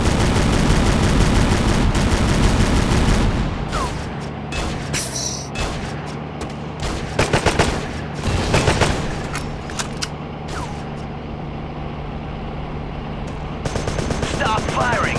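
Rapid gunfire bursts and single shots from the video game Terrorist Takedown ring out loudly and continuously, with sharp repeated cracks over a dense battle backdrop.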